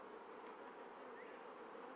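A swarm of honey bees flies around an open beehive at a bee farm, a dense, steady buzzing hum that fills the whole stretch with no talk.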